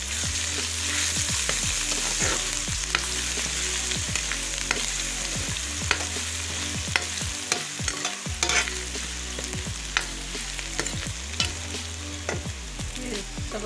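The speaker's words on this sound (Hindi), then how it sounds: "अब लहसुन अदरक का पेस्ट शामिल कर रही हूँ" Garlic-ginger paste sizzles steadily in hot oil for a desi aloo matar curry. A spoon scrapes and stirs the pan in regular strokes throughout, and no one talks.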